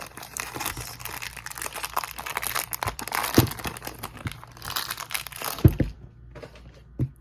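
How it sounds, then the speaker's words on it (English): Crinkly plastic packaging of a MoYu AoSu V7 puzzle cube is crumpled and pulled apart up close, a continuous rustle and crackle with a few sharp snaps, ending in quieter handling. "If I can open this package."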